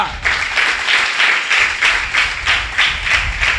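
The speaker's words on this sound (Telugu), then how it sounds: "గట్టిగా చప్పట్లు కొడుతూ ప్రభు నామాన్ని మహిమపరచండి." A Sunday-service congregation claps loudly in unison, a strong regular beat of many hands pulsing about three times a second, close and sustained with no talk over it.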